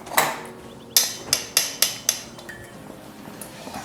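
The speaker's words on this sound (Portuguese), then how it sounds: "Ele tá raspando o óleo." A utensil scrapes oil out of a container while cheese bread dough is prepared, giving a brief run of sharp, close metallic clinks and taps, about six in quick succession, followed by faint scraping.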